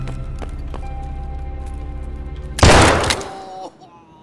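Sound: gunfire from a video game (Russian Civilian Simulator)

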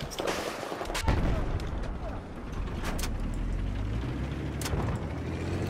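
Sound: gunfire in the video game Battlefield 4

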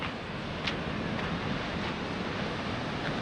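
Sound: ocean waves on a black sand beach in Iceland

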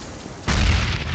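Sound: grenade explosion in video game Counter-Strike

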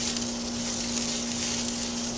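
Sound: stirring sizzling food while grilling bison burgers

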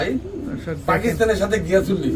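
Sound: pigeons cooing

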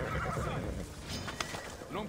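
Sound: horses of guards neighing in Assassin's Creed Odyssey, video game

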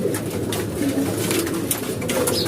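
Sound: pigeons cooing

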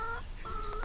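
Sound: chickens clucking

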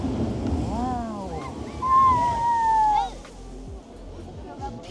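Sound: strong wind and rushing water on the coast

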